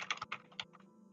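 Quick bursts of keystrokes on a computer keyboard, close and clear, several rapid clicking taps in an uneven rhythm, then fading to near quiet.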